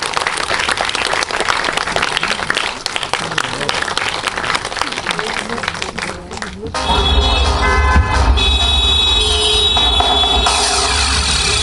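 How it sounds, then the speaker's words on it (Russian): Enthusiastic, dense clapping from an audience at an international pop and chanson festival fills the first six seconds as a steady patter, then gives way to music with a low rumble and tonal sounds. "Ну тут просто бурные аплодисменты, по-другому не скажешь"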